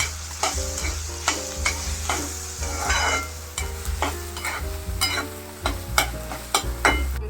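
Onions fry with salt in a pan for a kurdai recipe, a steady close sizzle broken by repeated scraping stirs of a spoon at a fairly regular rhythm, with no voices.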